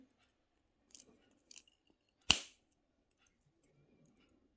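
Wire cutters snip the pinched end off jump-ring wire for earrings, one sharp, close, crisp click standing alone in near silence, preceded by a few faint small handling taps.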